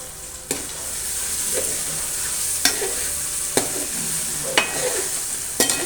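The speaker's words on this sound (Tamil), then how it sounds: "சரி, இது நல்லா எண்ணெயில் வெந்து வரட்டும்" Brinjal frying in sesame oil gives a steady, close sizzle, broken by several sharp scrapes and clatters as it is stirred at regular intervals.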